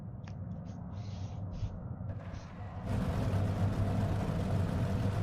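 Race car engine rumble in the Project Motor Racing video game, a low steady drone that jumps louder about halfway through and then holds, with no talk over it.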